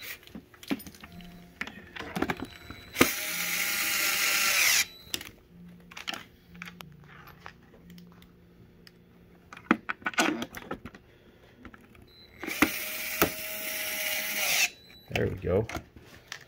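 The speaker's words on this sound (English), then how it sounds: "I always put the longer screws in first to make sure that the front plate is nice and even" Screws being driven into the case of a Lifepak 20 defibrillator during a battery change, heard as two long, loud bursts of power-driver whirring separated by scattered clicks and handling knocks.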